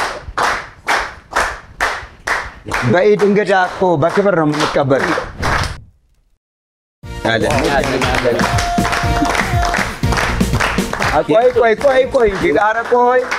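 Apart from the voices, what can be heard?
studio audience clapping to welcome a guest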